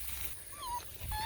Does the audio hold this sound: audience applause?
no